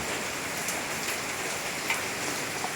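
Steady rain falls outside a house, a dense, even hiss of drops on the ground with occasional heavier splashes, continuous and fairly near.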